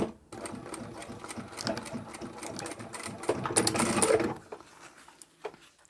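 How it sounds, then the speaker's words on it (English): A sewing machine stitches a leather or vinyl zippered pouch with end tabs, running as a steady rapid clatter that builds louder toward the end of the seam, then stops, leaving light handling noises. "I'm going to sew from here down to the end"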